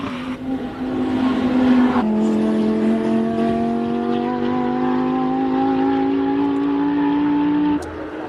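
Modified Audi R8 race car on a hill climb run, its engine note loud and rising through a long pull, a gear change after two seconds, then a steady climbing tone before cutting off near the end.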